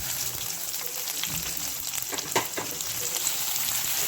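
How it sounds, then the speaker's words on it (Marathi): Onion sizzling in hot oil with cumin and mustard seeds for a Maharashtrian matki bhaji, a steady close-up fry crackle with a few sharper pops and faint stirring, no talk. "कांदा आता थोडासा लालसर आपण परतून घेऊ"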